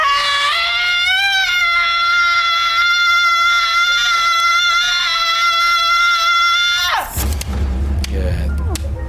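A woman lets out one long, high-pitched scream that holds steady and loud for about seven seconds, then breaks off abruptly into a noisy background.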